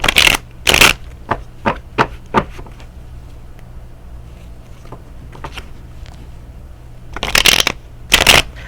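Tarot cards shuffled up close, giving loud crisp riffles and snapping slaps in a quick burst at the start, a quieter lull, then two more bright shuffles near the end.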